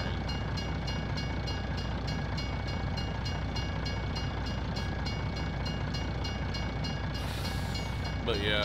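A very long train rolls past steadily in the video game Farming Simulator 19, giving a continuous rumbling drone with regular clicking wheel beats and a brief hiss near the end.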